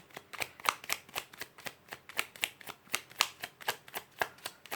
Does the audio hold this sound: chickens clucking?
no